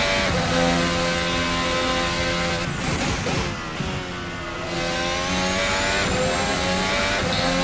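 A modern Formula 1 car screams at high revs in a racing video game, a loud, continuous engine whine that briefly dips and then climbs again as it pushes past other cars.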